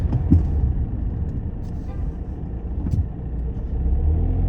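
Steady rumble of busy road traffic with cars, buses and trucks passing continuously, some engines revving and a brief air-brake hiss, fairly loud and close throughout.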